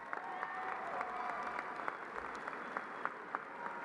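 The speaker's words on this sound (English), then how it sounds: "So would you give them a round of applause," A graduation audience at a high school ceremony applauding: a fairly faint, distant wash of crowd clapping with scattered sharper individual claps standing out, steady throughout under a murmuring hall ambience.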